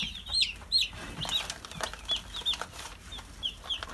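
Young chickens cluck and chirp in short high bursts, with soft wing flaps scattered among the calls, fairly close and moderately loud.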